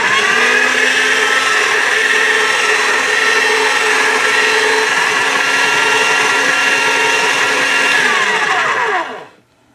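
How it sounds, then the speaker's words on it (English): A hand-cranked roller machine on its thickest setting presses polymer clay with a steady, loud whirring hum that runs evenly for several seconds, then slows and stops. "I'm going to roll these 2 through on the thickest setting."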